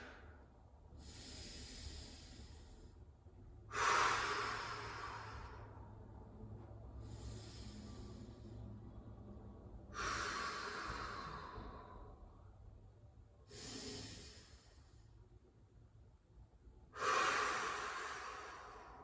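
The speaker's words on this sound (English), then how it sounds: "3 deep breaths." Slow, deep breaths during a morning body activation workout, with several long audible inhales and exhales close to the mic, quiet and spaced a few seconds apart with no talking.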